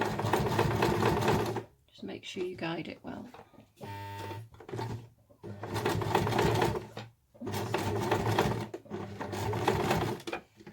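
A sewing machine with a zipper foot runs in several loud, steady bursts while someone talks in the pauses between them.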